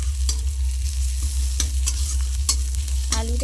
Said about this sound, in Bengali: লঙ্কা আর পেঁয়াজটা ভেজে নিলেই হয়ে যাবে